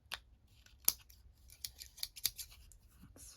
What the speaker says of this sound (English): I can come in with my scissors